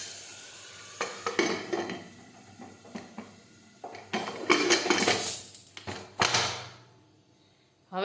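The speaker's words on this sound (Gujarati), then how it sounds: "હવે આપણે કુકરનું ઢાંકણ છે તે બંધ કરી દઈશું" A pressure cooker lid is fitted and closed during home cooking of brinjal curry, with several metallic clanks, scrapes and knocks of varying loudness and short pauses between them.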